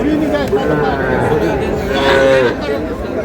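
Cattle low at a busy livestock market in Kushtia where Sahiwal heifers and small bulls are sold, the long moos rising and falling close by over a steady crowd murmur.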